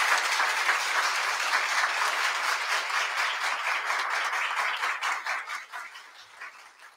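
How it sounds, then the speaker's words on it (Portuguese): A dense, steady wash of audience applause fills the hall at a formal council ceremony in Alegrete, Brazil, honoring a new honorary citizen. It holds strong throughout, then thins and fades toward the end. "uma salva de palmas para vocês"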